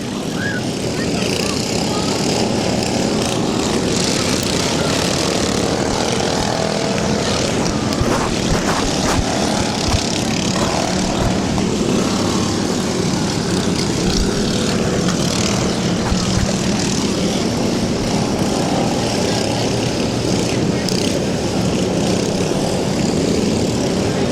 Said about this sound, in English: Surprisingly, still quite a few mowers left running.